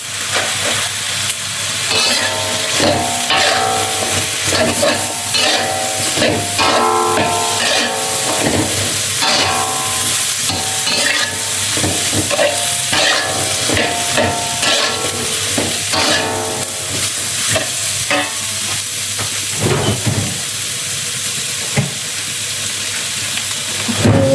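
Diced carrot and cauliflower tipped into a hot pan fry with a loud, steady sizzle and stirring scrapes that run close and continuous from start to finish, with no one speaking.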